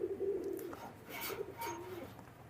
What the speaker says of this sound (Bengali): কবুতর ছেড়ে দেখাচ্ছে, দেখেন তো কেটিএম ব্লাড লাইনের কবুতর।